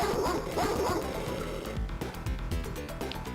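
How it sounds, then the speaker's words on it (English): Game dog from Earthworm Jim giving a few short yipping barks early on, laid over steady game music with thumping effects that take over toward the end. "It's still making the dog barking noise."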